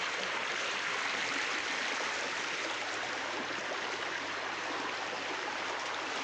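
Godasa waterfall roaring in a broad, continuous rush of falling water, loud and unbroken throughout, with no voices heard.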